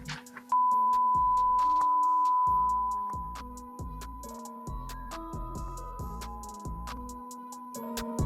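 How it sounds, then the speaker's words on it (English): A long, loud continuous censor tone starts abruptly and holds for a couple of seconds, then fades under ongoing chopped speech with further beep tones. "Johnny puts a beep over this part of the show"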